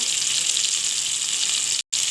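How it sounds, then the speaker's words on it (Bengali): Eggplant slices fry in hot oil with a steady, close sizzling hiss that keeps going for about two seconds, then cuts out in a brief dropout before resuming. "মোটামুটি আমার এইটাও রেডি হয়ে গেছে ভাজা আমি এবার তুলে নেব"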